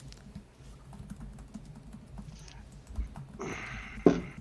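Rapid typing on a computer keyboard, a steady patter of key clicks running throughout at close range, with a few louder clacks and a burst of rustling near the end.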